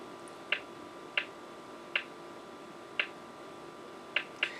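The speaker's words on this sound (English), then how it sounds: "you can also hear the ticking sound coming off the computer's internal speaker here every time a letter gets hit" Sharp ticking from a computer's internal PC speaker during the DOS Billiard virus payload: six crisp clicks at uneven intervals of roughly one second, over a low steady hum.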